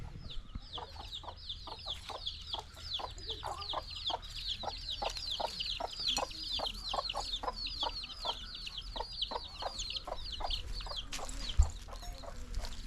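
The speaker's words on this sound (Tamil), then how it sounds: "வேறு கோழி குஞ்சு கட்டியிருக்கோம் இந்த அடிக்குது பாருங்க" Many chickens and chicks cluck and chirp steadily together in a lively, close flock, with a rooster-like call briefly standing out near the end.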